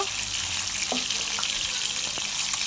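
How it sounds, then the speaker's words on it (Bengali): Katla fish pieces frying in mustard oil in a pan, a dense continuous sizzle close by with a few soft pops and crackles. "মাছের এক পিঠ ভাজা হয়ে গেলে উল্টে অন্য পিঠটাও ভালো করে ভেজে নিব"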